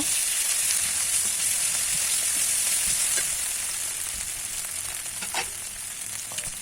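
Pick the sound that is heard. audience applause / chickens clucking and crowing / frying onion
frying onion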